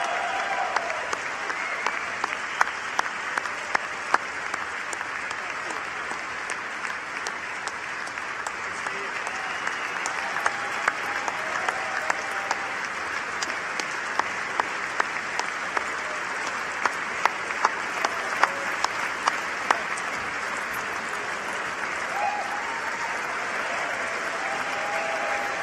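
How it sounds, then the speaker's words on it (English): A large chamber audience applauds at the State of the Union address, sustained dense clapping that holds steady for a long stretch, with a few sharper individual claps standing out and faint voices beneath. "and now another round of applause"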